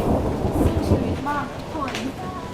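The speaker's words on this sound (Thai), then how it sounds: "ฝนตกด้วยนะ คือ มากันกลางฝนอะเอาจริง" Rain falling during a thunderstorm, a dense hiss with low rumbling in the first half, fading somewhat while faint background voices and tones come through.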